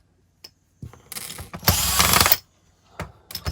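A power drill backs screws out of an HP G62 laptop during disassembly: a few brief clicks and short whirs, then one loud, close, sustained whine of nearly a second, followed by more ratcheting bursts.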